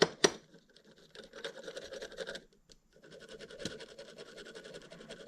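Crankshaft bearings from a Ski-Doo MXZ 600 snowmobile engine, in rough condition, are spun by hand, giving close, faint, rattly whirring in two spells with a short pause between.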